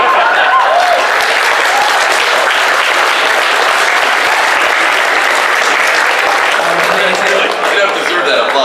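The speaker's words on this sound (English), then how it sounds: "You don't deserve that applause at all." Loud, dense audience applause at a live event fills the whole stretch, a continuous close roar of many clapping hands with a faint murmur of crowd voices underneath.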